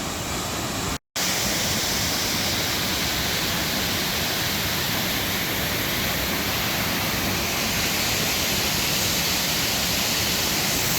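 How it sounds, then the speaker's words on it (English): A Patagonian waterfall roars as a dense, constant rush of falling water, loud and close, broken only by a brief cut near the start before the steady wash resumes. "We'll have a up above look at this waterfall here."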